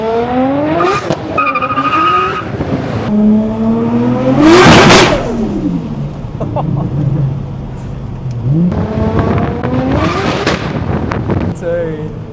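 A 600HP Nissan Skyline revs hard several times, engine tone sweeping up and down, with loud sharp exhaust bangs and pops at the peaks of each rev, close and dominant.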